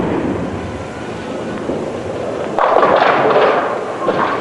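A bowling ball rolls down a lane and crashes into the pins, leaving a 4-6-7-10 split in a 1987 televised pro bowling match: a low rolling rumble, then a sharp clattering burst of pin action midway, heard alone.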